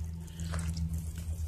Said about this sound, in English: So here I'm just watering as I go.